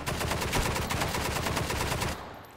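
An Ultimax machine gun fires a rapid, evenly spaced burst of about a dozen loud close shots in the H3VR virtual reality shooter, stopping abruptly near the end with a short fading tail.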